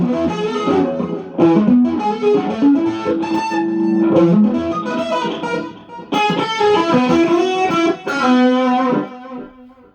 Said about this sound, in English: real warm overdrive